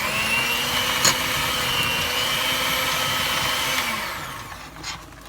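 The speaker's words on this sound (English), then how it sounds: "I'm going to use my electric hand mixer, and this works really good." Electric hand mixer mashing cooked potatoes in a pot on the stove, a steady whirring motor drone close by that runs for about four seconds, then slows and trails off near the end.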